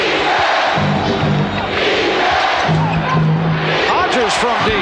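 Crowd at a 1990 NBA Finals Game 4 between the Chicago Bulls and Los Angeles Lakers, a loud roar and cheering swelling in the arena with a commentator talking over it.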